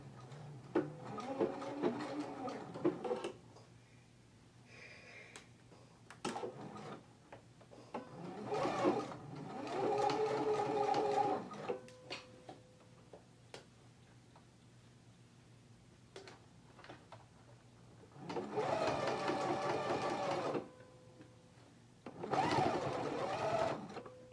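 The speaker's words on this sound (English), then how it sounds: "I'm going to put my needle down right here in the ditch and start stitching." A sewing machine stitches a pants waistband in the ditch, running in several bursts of steady mechanical whirring separated by quiet pauses, close and clear with no talk.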